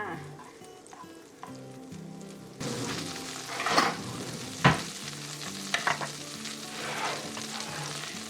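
Butter sizzles and crackles steadily in a hot pan, growing louder partway through, with occasional utensil scrapes and clinks.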